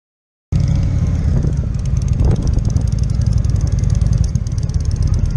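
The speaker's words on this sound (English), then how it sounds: "Just waiting for this truck to pull out so we can park." A truck pulls out of a parking spot at a bar and grill at night, heard as a steady loud engine rumble from inside a car, with no one talking.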